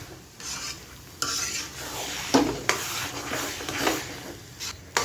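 Carrot halwa, rich with ghee and almonds, stirred in a pan: a spoon makes repeated, uneven scraping and rasping strokes against the metal over a soft sizzle.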